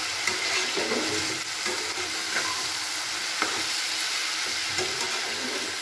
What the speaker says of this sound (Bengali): এবার খোলা অবস্থায় আমি আবার কিছুক্ষণ নাড়াচাড়া করে নিচ্ছি।